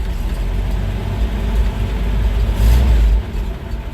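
A Studebaker US6 military truck engine runs steadily, with the hood open, making a continuous low rumble at a fairly even level throughout.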